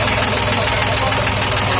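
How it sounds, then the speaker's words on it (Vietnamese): A Yanmar excavator's 3T84 three-cylinder diesel engine runs steadily up close, a loud, dense, continuous mechanical rumble with no break. "Rồi đây động cơ ba máy hả? Ba máy. Ồ động cơ đã quá, 3T84 rồi"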